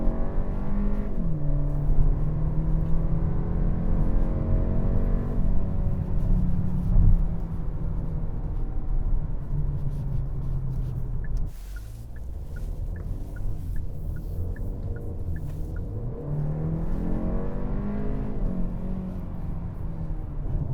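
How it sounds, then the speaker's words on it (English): A 2025 Kia K4 GT-Line turbo in sport mode accelerating hard from a stop, with the engine note rising loud and steady through the gears, dipping at a shift midway, then climbing again, heard from inside the cabin. "I have it in sport mode, so now going from a stop."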